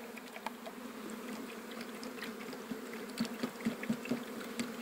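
Honey bees humming steadily inside a hive during transfer to a standard box, a dense continuous drone with a few sharper buzzing bursts near the end, no talking.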